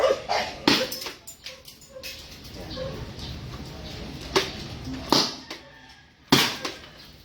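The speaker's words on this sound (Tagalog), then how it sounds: "medyo maingay lang yung aso natin" A pet dog barks and whimpers in short, sharp bursts scattered across the scene, fairly close and loud, with quieter stretches of room noise and faint talk between the yelps.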